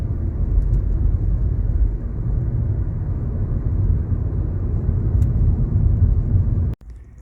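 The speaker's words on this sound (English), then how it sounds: "Can y'all see that plane coming in for a landing?" A steady, distant airplane engine drone rumbles continuously as the plane comes in to land, then cuts off abruptly near the end.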